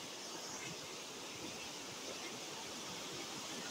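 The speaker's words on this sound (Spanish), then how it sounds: "Nos despedimos en esta bonita y hermosa cascada" A waterfall at Gnat Creek roars as a steady, dense rush of white water, unbroken and close for the whole stretch with no talking.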